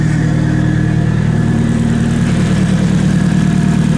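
Nissan Silvia with a swapped engine idling steadily, a loud, close, even low rumble with no breaks and no voices.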